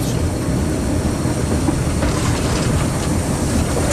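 An SY 2-8-2 steam locomotive coasts quickly along track at Tangshan coal mine, with a continuous close rumble of wheels and rhythmic clickety-clack over rail joints.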